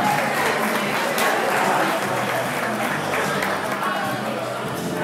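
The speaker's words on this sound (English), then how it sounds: "Big round of applause, please," Wedding reception audience applauding a mother and son dance, with a steady, dense wash of clapping and crowd noise that holds through the whole stretch, fairly loud and close.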